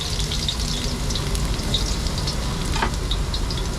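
Garlic sizzles and crackles steadily in hot oil in a frying pan, a dense, continuous hiss with small pops, close and fairly loud throughout with no voices.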